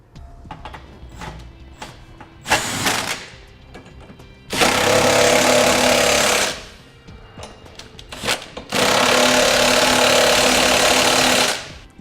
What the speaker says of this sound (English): now using our 3/4 inch socket, we'll tighten our 6 bolts up.